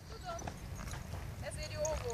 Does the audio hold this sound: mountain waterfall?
no